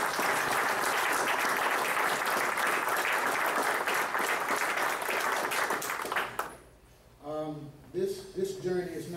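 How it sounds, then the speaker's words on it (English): A conference audience claps for themselves in a large hall, a dense, loud, sustained round of applause that cuts off abruptly after about six seconds, followed by someone speaking. "I want you to take a moment and give yourselves a hand clap"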